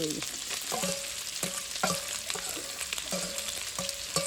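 Vegetables and bamboo shoots frying in a pan, a continuous sizzle broken by regular scraping stirs of a spatula, close and moderately quiet.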